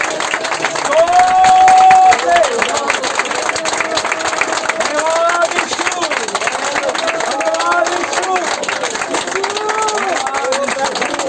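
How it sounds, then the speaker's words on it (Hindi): A village church congregation claps loudly in thanks, a busy wash of hand claps with voices speaking and calling out over it throughout. "एक बार जोर से ताली बजाकर प्रभु को धन्यवाद देंगे"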